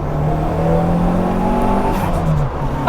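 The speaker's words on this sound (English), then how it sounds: "Guys, this makes the best flutter noises for a little car." A small turbocharged sleeper car drives with a loud, continuous engine drone and shifting pitch, heard close from inside the cabin with the windows down and no speech.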